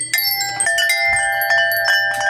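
Small metal bells hanging on a backyard bird feeder jingle repeatedly, bright overlapping rings struck close and loud with no talking.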